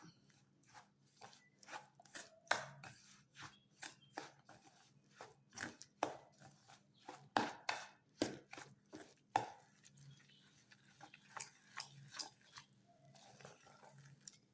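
A spoon works through thick batter in a bowl, making steady rhythmic scraping and tapping strokes up close, with no talking.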